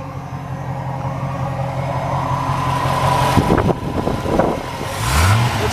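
A 1991 Chevrolet Corvette ZR-1 engine idles steadily with a low, even drone, then gets a couple of short revs and a rising blip near the end, heard up close with no talk.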